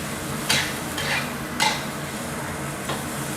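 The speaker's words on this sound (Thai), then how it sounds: "ผัดคลุกเคล้าก่อนนะครับ" Soaked glass noodles and water mimosa tossed in a hot pan, a steady sizzle with a few sharp scrapes of a utensil against the pan, close and loud, with no speech.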